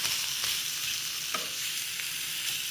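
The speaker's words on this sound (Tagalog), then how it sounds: "Para maluto yung cheese. Para mag-grilled siya." Cheese grilling in a pan for a quesadilla, giving a steady close sizzle and fry hiss throughout with a few faint scraping touches, no talking.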